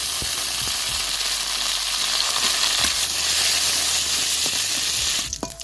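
Raisins fry in hot oil after cashews in a pan, a steady loud sizzle with a few soft stirring knocks, ending in a clatter.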